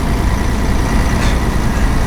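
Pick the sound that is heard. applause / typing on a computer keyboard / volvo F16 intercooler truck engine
volvo F16 intercooler truck engine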